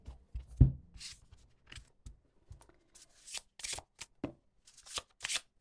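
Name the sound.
shuffling oracle cards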